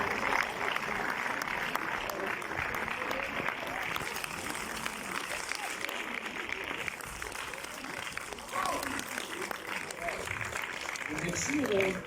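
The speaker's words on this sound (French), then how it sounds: "On les applaudit bien fort." Audience at a film premiere applauding the crew, a steady, dense wash of clapping sustained throughout at moderate level, with faint voices in the room.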